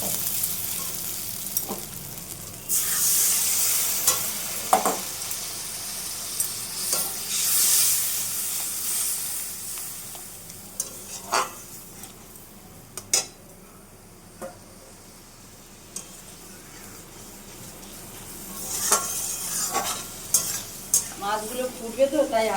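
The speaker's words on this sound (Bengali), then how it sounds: "এগুলো মাছের তেল তাই এই ওপর দিয়ে মাছের তেলটা দিয়ে কষিয়ে নেব" Fish pieces sautéing in fish oil with Kashmiri chili powder in a pan, a soft steady sizzle with occasional stirring clinks and scrapes, close and alone without talk.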